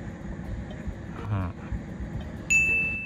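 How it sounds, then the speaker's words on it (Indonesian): A BYD Dolphin or Atto 3 left turn signal sounds inside the cabin, a single bright chime near the end over a steady low road rumble, with a brief muffled voice earlier. "Kalau sen kiri"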